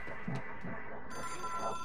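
A red hotline phone rings in the video game Control, a short electronic bell tone heard a couple of times over quiet game ambience.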